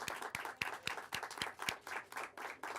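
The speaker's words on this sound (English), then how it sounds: "Everyone, nice round of applause." An audience at a candidates forum applauds with a short burst of clapping. Many hands blend into a steady, moderately loud patter with a few sharper claps standing out.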